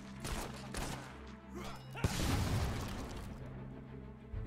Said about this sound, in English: Fire your gun.